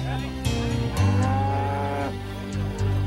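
Cattle moo on a Texas ranch near Beeville, with several loud, close, deep lowing calls overlapping in an uneven rhythm.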